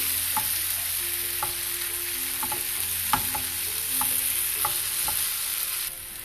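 Coriander powder, chili powder and salt being mixed into a masala frying in oil for a dhaba-style green peas dish, with a steady sizzle and a spatula scraping the pan in repeated strokes, no voices.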